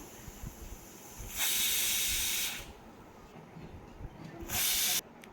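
Pressure cooker on a gas stove over a medium flame, cooking a Kerala curry of cucumber and jackfruit seeds, lets out two loud, steady hissing bursts of steam, each lasting about a second, with quieter kitchen rumble between them.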